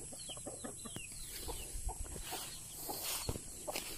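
Chickens on a farm in the countryside, including a hen sitting on eggs, give soft scattered clucks and short calls at close range over a steady outdoor hiss, with other birds faintly in the background.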